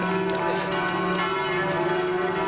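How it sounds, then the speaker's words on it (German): Church bells ring out at an outdoor gathering in Frankfurt, with overlapping tolls forming a continuous, resonant peal throughout. "Ich finde, die Glocken sind so wichtig."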